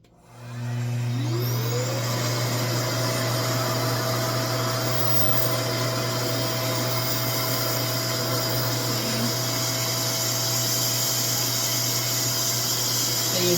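A RevAir hair dryer running on textured, coily 4C hair: a loud, steady whooshing motor roar that starts up abruptly and holds at an even level throughout, close and continuous with no voices.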